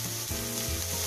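Frozen corn with chopped green and red capsicum sautés in a pan, giving a continuous close sizzle with a faint hum underneath over about a second, no voices.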